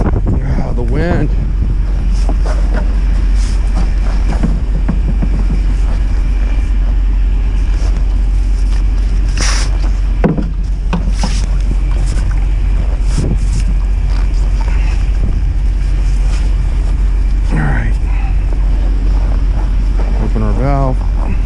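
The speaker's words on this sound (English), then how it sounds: "Oh, the wind." Strong wind roars continuously at an oilfield in -20 degree cold while production water is pulled, a loud steady buffeting rush with microphone wind noise throughout and faint sounds of work beneath it.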